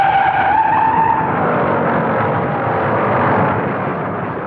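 Loud tire skidding and engine roar from four cars sliding at the 1960 Daytona 500 fill the whole clip, a sustained screech with a high whine that fades into a broad rushing noise.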